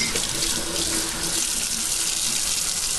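Water from a kitchen tap runs steadily over a raw pork tenderloin as it is rinsed in the sink, a continuous close splashing hiss with no talk.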